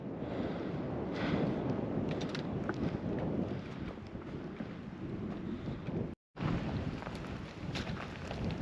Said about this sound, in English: It's getting kind of windy up here.